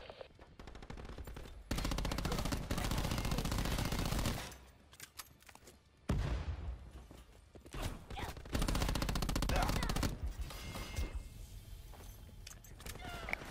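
Black Ops 4 gameplay with a Maddox rifle: bursts of rapid automatic fire come in long loud stretches broken by short pauses, with in-game voices heard over the action.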